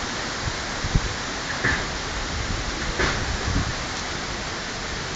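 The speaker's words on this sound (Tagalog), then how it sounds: "Papasok na ako, ang lakas na ng ulan." Heavy typhoon rain pours steadily as a dense, even hiss, with a few louder thumps and splashes scattered through it and no voices.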